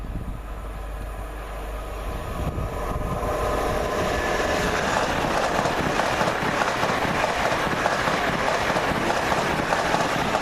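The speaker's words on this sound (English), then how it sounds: "there's a train approaching from the Edinburgh direction" An Azuma train approaches Reston station from the Edinburgh direction, a broad, steady rumble that swells and thickens over about ten seconds as it draws nearer, with no talk.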